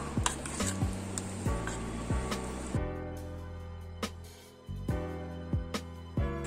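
Chicken coated with tapioca flour being stirred in a bowl, giving repeated scraping and clinking strokes of a utensil against the bowl at a steady, close rhythm, with no talking.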